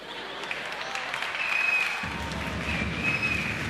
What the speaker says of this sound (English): Why are you clapping, man?